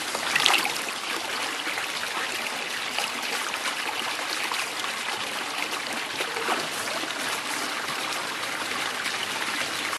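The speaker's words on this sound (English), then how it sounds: "By opening the tap, you can now drain off any wastewater into a bucket" Wastewater from a pressurised pond filter drains through its tap into a bucket, a steady close trickling splash that runs evenly throughout.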